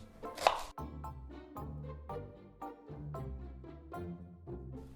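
Knife chopping an onion on a board in a steady series of crisp thuds, close and fairly loud, with no talking over it.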